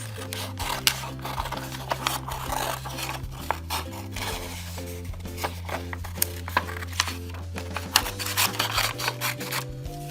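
Scissors snip out a small paper carrot shape for a rabbit wall decoration at a preschool art table, a quiet close series of irregular cuts with paper rustling and a low background hum.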